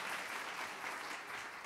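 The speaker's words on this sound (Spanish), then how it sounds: "Demos un fuerte aplauso a Dios por ello." A church congregation applauds during a Sunday service, a steady, dense wash of many hands clapping that stays loud and even throughout, with no voices rising above it.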